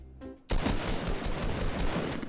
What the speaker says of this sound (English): Shoot the cannons at them.